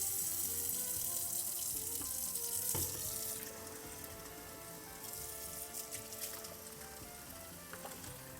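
Tap water runs steadily into a sink for a one-minute rinse of photographic film during developing, a continuous close hiss that drops a little in level partway through.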